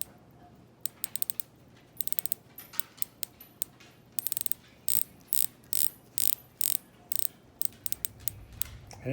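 A titanium watch's rotating bezel ratchets in crisp, tiny metallic clicks, sparse at first and then in quick rhythmic bursts, close up and fairly quiet with no talking.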